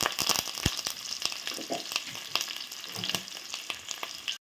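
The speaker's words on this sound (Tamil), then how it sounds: "நல்லா வெங்காயம் வதங்கி வருது" Onions sautéing in a pan with fennel, garlic and curry leaves for a Tamil fish curry, a steady close sizzle with sharp spoon scrapes and stirring clicks throughout.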